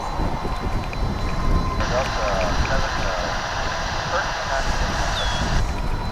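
An Airbus A321 airliner passes at DFW airport with a steady, broad engine roar that holds for several seconds, while faint voices murmur underneath.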